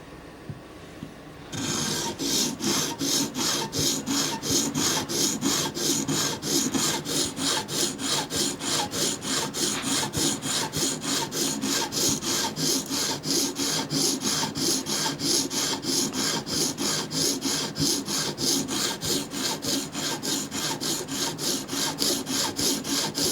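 An OTF knife blade scrapes back and forth on a coarse 80 grit sharpening stone in a fast, steady rasping rhythm, close and loud, after a brief quieter start.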